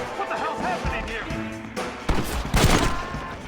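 Gunshots crack in the game Red Dead Redemption, a burst of loud reports in the second half with a sharp close shot near the end, following game voices and music.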